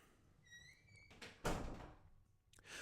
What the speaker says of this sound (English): And close the door, please.